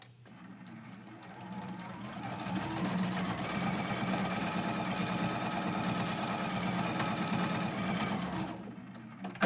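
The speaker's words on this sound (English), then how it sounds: "we're going to sew from edge to edge with the 1/4 inch seam allowance." Sewing machine stitching a quarter-inch seam edge to edge on a quilted mug rug, a steady close mechanical whirr that speeds up and runs continuously before stopping.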